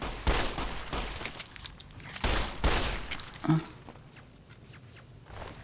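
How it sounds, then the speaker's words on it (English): Enemies open fire with guns in Fallout New Vegas: a burst of fairly close, sharp gunshots in quick clusters, followed by quieter scattered shots and footsteps. "But I do hear the sound of people shooting at me"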